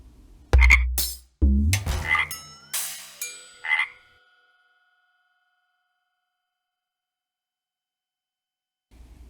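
A frog croaks in about five loud, rough bursts in quick succession, close and alone, followed by several seconds of silence.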